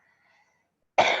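Person coughing: one abrupt, loud cough close to the microphone after a near-silent pause, heard alone.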